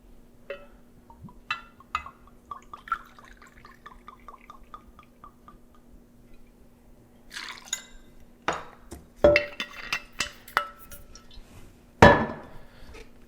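El Jimador tequila, two ounces, going into a cocktail glass for an Old Fashioned: a few faint clinks and drips early, then louder sharp glass knocks and splashy pours toward the end, close up with no talking.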